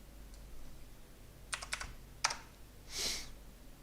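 A few scattered keystrokes on a computer keyboard, faint and close, in short bursts with pauses between, over a low steady background hum.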